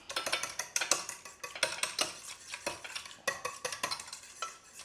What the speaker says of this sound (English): And we'll just give it a little whisk up.